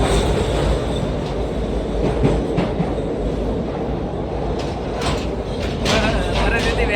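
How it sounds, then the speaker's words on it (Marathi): Interior of a moving passenger train near Khed in Maharashtra: a steady, loud rumble of wheels on rails with a rhythmic clatter and a few squeaks, continuous throughout, with faint voices blending into the noise. "बसलो बघा ट्रेनमध्ये."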